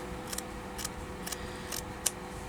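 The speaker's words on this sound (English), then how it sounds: "So I'll just duck under here with the scissors and go like this." Scissors snip through fabric for a patchwork bag in five crisp, evenly spaced cuts, close by and alone against a quiet room.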